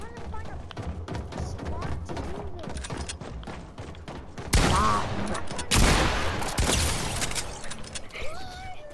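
Rapid bursts of video game gunfire crackle over several seconds, with heavier volleys near the end, mixed under people talking.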